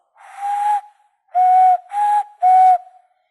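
A handmade clay whistle blown in four clear, pure-toned bursts, the first a longer single blast, then a pause and three quick blows in a row, loud and close with slight breathy hiss.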